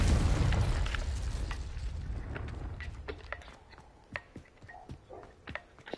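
A Confringo spell from Hogwarts Legacy bursts in a loud rumbling blast that slowly fades, followed by scattered small crackles and pops as debris settles, with no voices.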